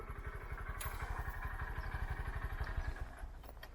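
Honda CBR500R and Honda Grom motorcycle exhausts burble steadily at idle nearby, a dense rhythmic low pulsing with faint clatter throughout.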